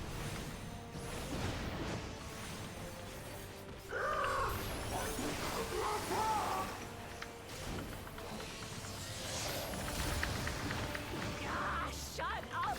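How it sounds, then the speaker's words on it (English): A game bird caws and squawks repeatedly in sharp, harsh bursts over busy game background noise, with occasional whooshes and mechanical clatter. "shut up already, you blasted bird!"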